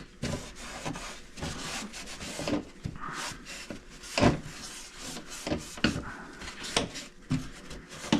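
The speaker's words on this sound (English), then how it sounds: "So I want to come in and just really wipe this down, get this whole thing clean" Cloth wiping and rubbing across a plastic dash cluster panel with wax and grease remover, a steady run of close scrubbing strokes with sharp bursts of friction, no talking.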